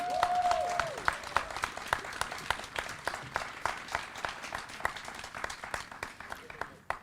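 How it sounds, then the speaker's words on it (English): An outdoor crowd at a Juneteenth flag raising claps for members of the North Shore Juneteenth Association; sharp, scattered hand claps stand out against a moderate wash of applause, and a brief tone sounds at the start. "Can you please give them a hand clap?"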